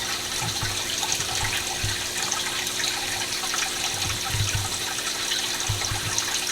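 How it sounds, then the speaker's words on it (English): Water trickles through a 3D printed hydroponic vertical lettuce tower, a close, continuous splashing dribble broken by soft low gurgles and drips at irregular intervals. "you can see now the fillet of water that's coming out"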